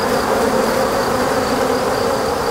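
Honey bees buzzing at an open Langstroth hive, a dense, continuous drone from many bees close by, loud and steady with no pauses.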